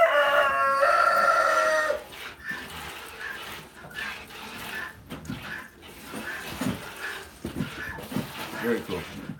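Roosters crowing during morning milking on a farm, a loud harmonic crow opening the scene, then quieter barnyard fowl calls and clucks under people talking.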